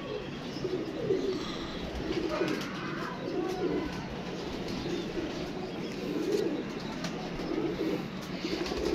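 Teddy pigeons, a rare pair, coo in a steady low murmur throughout, with faint wing flutters and outdoor background noise.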